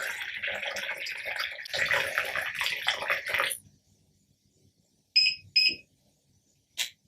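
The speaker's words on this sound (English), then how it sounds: "The system will also notify you when it's accepted enough water." Water pouring into the tank of a VH 600 hydrogen generator, followed after a pause by two short electronic notification beeps and a third brief tone.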